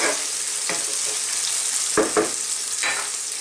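Onions sauté briefly in a pan for squid adobo in coconut milk, a dense, loud hiss of frying close up, broken by a few quick scrapes of a spoon, with no voices.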